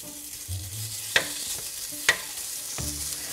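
Meat dropped into a hot pan sizzles steadily, broken by a few sharp metallic clinks and stirring scrapes, close and fairly loud with no talking.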